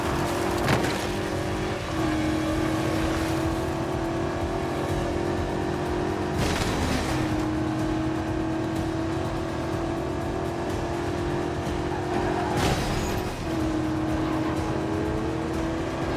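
Car engine in a racing video game drones steadily with sustained revving tones, broken by brief gear-shift dips and a few sharp passing swooshes, loud and continuous throughout.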